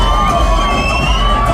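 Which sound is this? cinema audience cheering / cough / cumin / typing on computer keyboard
cinema audience cheering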